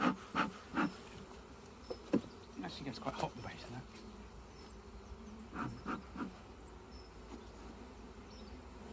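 Bees buzz steadily around an open beehive being smoked, a close, continuous drone with a person speaking briefly over it and occasional faint knocks.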